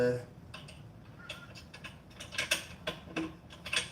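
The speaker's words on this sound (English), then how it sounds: "I think all you do is tighten these bolts up" Bolts being tightened on a machine, a series of soft ratcheting clicks and metallic creaks close up, growing busier toward the end, with faint background noise.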